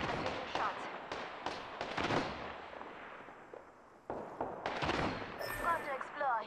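Gunfire in an Apex Legends match cracks out as sharp shots in quick clusters, then fades and resumes after a short lull, mixed with game effects and faint chatter.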